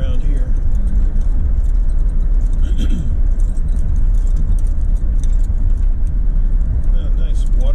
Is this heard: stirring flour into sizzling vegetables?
no